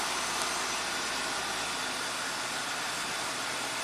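A 1985 Oldsmobile engine idling at about 1000 RPM in diagnostic mode, heard as a steady, dense, close rumble with broad hiss that holds unchanged throughout, no voices.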